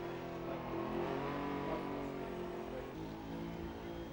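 A Holden Torana revs hard at a burnout competition on the donut pad, its engine a dense, sustained roar that wavers in pitch and sounds somewhat distant.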